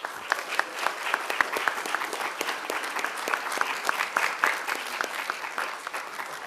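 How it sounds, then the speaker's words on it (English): Sustained applause from a crowd at a commission meeting, dense rapid clapping throughout at steady volume with no pauses. "please give them a warm round of applause for all they do"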